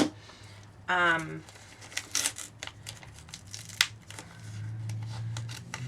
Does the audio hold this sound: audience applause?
no